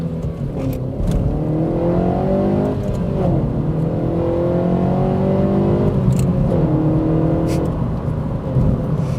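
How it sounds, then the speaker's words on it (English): A 2012 Honda Civic Si engine revs hard through the gears into VTEC, rising in pitch repeatedly with brief dips at shifts over steady road and tire noise, heard from inside the car. "it's really nice to be able to wring the engine out, use all of its power, get into VTEC"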